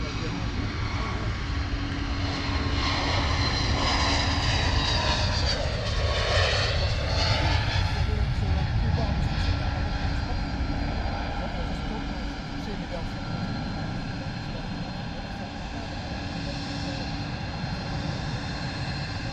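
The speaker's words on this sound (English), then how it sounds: "why don't we grab the Wizz Air departure, eh?" A Wizz Air jet airliner departs London Luton Airport with a loud, broad engine roar that swells and then holds steady. A distinct pass-by sweep comes near the middle, and faint voices talk beneath it.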